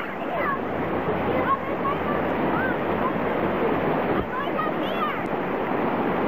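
River rapids rush in a steady, broad roar of churning water, close and continuous, with faint wind buffeting and a few brief squeaky sounds over it.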